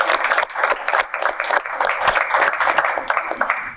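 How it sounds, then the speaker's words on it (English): Audience at a community partners coalition gathering clapping in steady, dense applause that fills the room, loud and continuous throughout with no pauses. "Everyone just give yourselves a round of applause for all the work that you do in the community"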